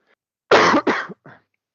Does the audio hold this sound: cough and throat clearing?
yes